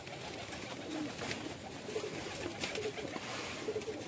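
A female breeder pigeon coos softly in a short, repeated series, set against steady background noise with no voices.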